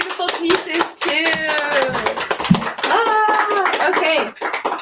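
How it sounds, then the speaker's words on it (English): Brief hand claps at an auction, a few sharp taps scattered between loud, drawn-out vocal sounds and chatter from people close by that dominate the scene. "Big round of applause to Tiana and all of her beautiful pieces too"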